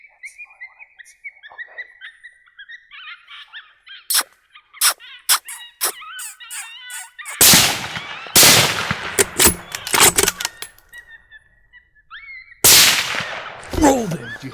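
Loud rifle gunshots ring out during a night coyote hunt, a few sharp cracks and bursts from about 7 seconds on with echoing tails, after a stretch of chirping frogs and soft voices.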